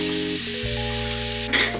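Garlic sizzles loudly in a hot frying pan, a continuous close hiss and crackle of frying with faint low hum underneath, briefly flaring brighter near the end.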